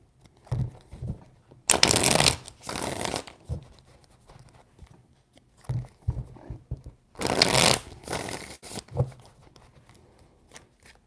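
A deck of tarot cards is shuffled in quick riffling bursts, two louder flurries separated by softer handling and taps, close and quiet with no talking.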